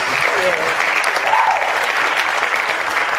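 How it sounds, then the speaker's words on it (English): Live hand clapping from a small studio audience on a talk show, brisk and close, with voices talking and calling out over the applause. "Can we get a live hand clap?"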